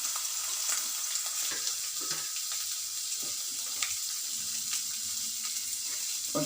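Chopped onion frying in a couple of teaspoons of oil for pav bhaji, a steady close crackling sizzle throughout with faint clinks of stirring and no talk.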